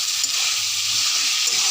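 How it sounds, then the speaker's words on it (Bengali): Boiled taro leaves being stirred in a frying pan over lowered heat, giving a steady, close sizzle and hiss with faint stirring scrapes throughout. "কচুর পাতাটাকে দিয়ে হালকা আঁচ কমিয়ে নাড়াচাড়া করবেন।"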